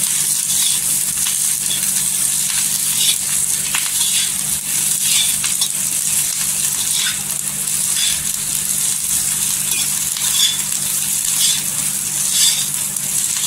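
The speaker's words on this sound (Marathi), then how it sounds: "छान अशी तेलावर परतून घ्यायची मिरची आणि लसूण एकत्र" Green chillies and garlic sautéing in a little oil give a steady, dense sizzle that hisses continuously throughout, close and fairly loud, with no talking.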